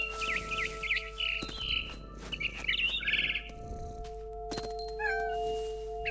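Cat meows mixed with bursts of frightened bird chirps and tweets from a barn swallow in the video game What Remains of Edith Finch, set against a steady low game hum with no talking.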